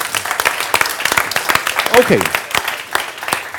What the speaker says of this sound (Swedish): En applåd også til dig.